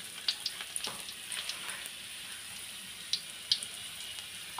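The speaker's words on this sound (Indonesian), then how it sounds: "Kita tumis dulu ininya ya, bawang putihnya dulu ya" Garlic sizzles and fries in a pan for a stir-fry of cucumber and green beans, a soft steady crackle with a few light clinks of a utensil, faint and close, no voices.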